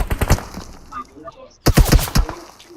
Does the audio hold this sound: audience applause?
no